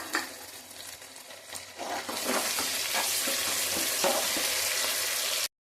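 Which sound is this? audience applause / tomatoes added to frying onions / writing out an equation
tomatoes added to frying onions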